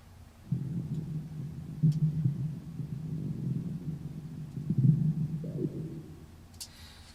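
A deep, low D drone from the Arturia Analog Lab synth patch Deep Down, a dark humming swell that pulses softly and rises in two louder surges before fading, with no voices.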